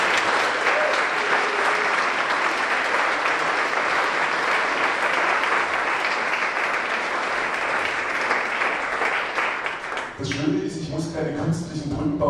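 Sustained loud applause from a large audience at the Tollhaus venue in Karlsruhe, dense steady clapping for about ten seconds before a voice begins speaking over the fading claps.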